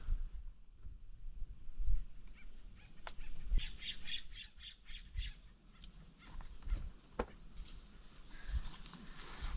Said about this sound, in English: Sounds like baby birds.